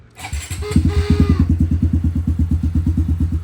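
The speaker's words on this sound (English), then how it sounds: "Let's get that fire up." Honda CRF110 motorcycle fitted with a big bore 132 kit starts up, a quick crank catching into a loud, close, steady thumping idle with an even rapid pulse.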